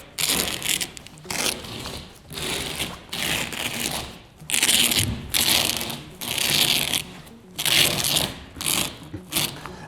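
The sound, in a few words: rolling up Rough Country soft roll-up tonneau bed cover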